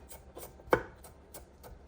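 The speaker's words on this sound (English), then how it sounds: "Finely chopping some garlic and coriander" A knife finely chops garlic and coriander on a board with about six crisp, evenly spaced taps, one sharper than the rest, close and fairly quiet.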